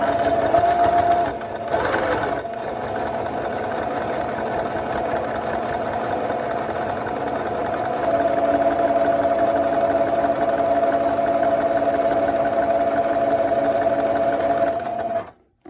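A sewing machine stitches hand-made ties onto a fabric face mask, running in a steady continuous whir for the full length with a brief pause near the start, close and loud with no talking.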